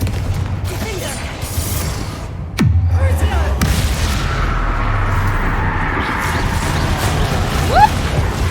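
A Confringo fire spell in Hogwarts Legacy is cast with a sudden booming blast partway through, over a rumbling low-end of mechanical clatter and creaks that lingers afterward.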